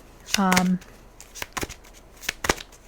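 Tarot cards shuffled by hand during a card reading, a few short papery riffling bursts spread across the moment, with a brief spoken syllable near the start.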